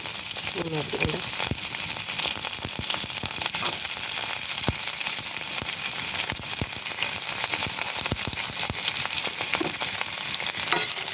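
Shallots, garlic and curry leaves frying in hot coconut oil in a pan, a dense continuous sizzle and crackle with frequent sharp pops, steady and close throughout.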